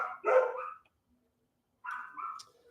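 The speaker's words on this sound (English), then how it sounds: "now they're all barking" Dogs bark in two short bursts separated by a pause of near silence, the barks fairly faint and slightly distant.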